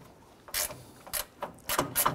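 A hand ratchet loosens the hood latch bolts on a 2012-2017 Toyota Camry, with a few quick, close clicking bursts in an uneven rhythm.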